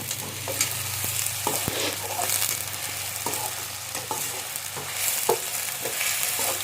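Chinese-style Maggi noodles and onion stir-fry in a hot pan with a constant close sizzle, broken by scattered scraping knocks from stirring.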